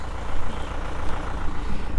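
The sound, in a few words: tractor approaching on farm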